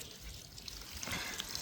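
Water flows from an irrigation pipe on a farm plot, a soft, steady trickling and pouring heard faintly and alone at close range.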